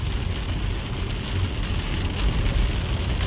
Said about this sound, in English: the rain it fall now like torrential rainfall for Cameroon